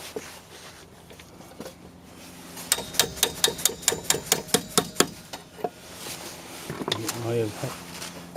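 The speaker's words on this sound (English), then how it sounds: "Hit it with a hammer again." A hammer strikes a rusted steel steering arm repeatedly, about a dozen sharp rapid clanks in a steady rhythm, close up, followed by quieter shuffling and a voice.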